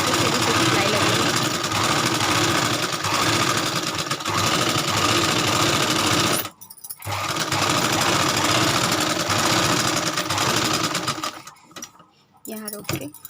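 Sewing machine stitching a straight seam along a marked line in suit fabric, a steady close mechanical whir running continuously with a brief pause midway and another stop near the end.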